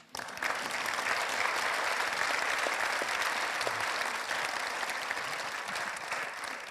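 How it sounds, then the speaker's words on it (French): Steady audience applause at a round-table discussion on consciousness and communication, a dense, even wash of clapping that starts abruptly and holds for several seconds. "On fait un applaudissement global,"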